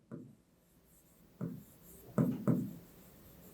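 Chalk or marker strokes on a classroom board during a maths lesson, a few short scratchy bursts with pauses between them, close and fairly quiet with no talking.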